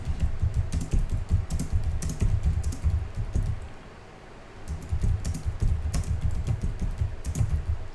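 Computer keyboard typing, a steady run of quick close keystrokes that pauses briefly around the middle before carrying on, with no talk.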